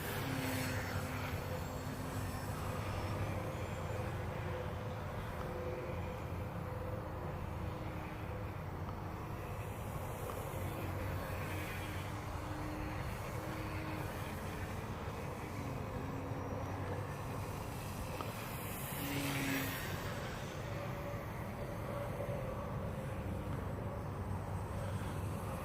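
A Flight Test kit radio-controlled model airplane with a replaced motor flying, giving a steady continuous engine drone with gentle swells in pitch, heard from a distance over a constant outdoor background.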